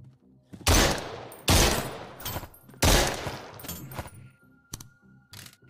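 Full-auto gunfire from the VR survival game SURV1V3 rips out in three loud, close bursts, separated by short gaps and followed by faint clicks and handling noises.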